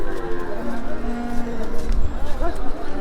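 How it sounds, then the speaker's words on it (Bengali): A white native cow at a busy cattle market lets out a long, loud mooing bellow nearby, with crowd noise and voices murmuring behind it. "আমরা এখানে সুন্দর একটা দেশি গরু দেখতেছি"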